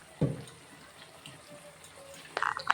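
Tamarind water is poured into a pan of eggplant cooking for a tangy tamarind gravy. There are two short splashy pours, one near the start and a louder one near the end, in an otherwise quiet kitchen.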